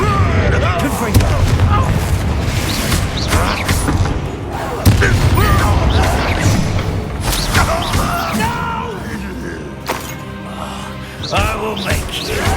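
Confringo and Bombarda spell explosions in the Hogwarts Legacy video game: repeated loud booms and crashing blasts burst over game music, with characters' voices and shouts between them.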